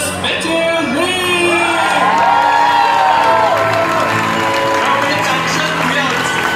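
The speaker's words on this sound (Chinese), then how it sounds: "让我们掌声不要落下，让我们掌声继续的落下" Wedding guests cheer and whoop for the bride and groom's grand entrance, a loud crowd of overlapping shouts and excited voices with some clapping underneath, sustained throughout.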